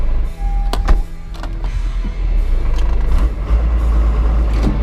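A truck engine idles and strains while pulling a stuck truck backwards in soft sand on Fraser Island, with a loud low rumble, some sharp metallic clunks and hisses close by, and no talk.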